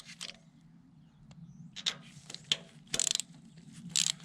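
A ratchet breaks loose the valve cover bolts on a 2013-2016 Dodge Dart 2.4L engine, producing faint clicking pawl sounds and a few sharper metallic snaps close by over a low hum.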